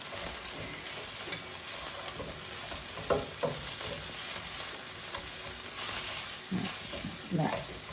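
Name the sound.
mashing ground turkey frying in a pan with a masher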